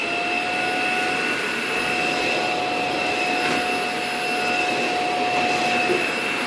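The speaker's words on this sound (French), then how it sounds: "je vais passer mon petit aspirateur" Ultenic U10 Pro cordless vacuum cleaner running indoors over a floor, a loud, continuous high whine with steady tonal hum and no pauses.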